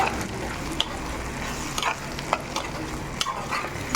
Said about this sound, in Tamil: இப்போது இதோ இந்த கொத்தரங்காய் கிரேவியில் ஊற்றிக்கலாம். நல்லா கிளறி விட்டுக்கலாம்.